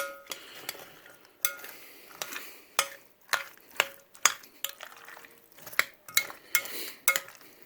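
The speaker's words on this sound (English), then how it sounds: "Now we stir the pot." A spoon scrapes and clanks around a pot of potato salad made with Yukon Gold potatoes and mayonnaise in an RV kitchen, about a dozen sharp metallic knocks in an uneven stirring rhythm, close and fairly quiet with no talking.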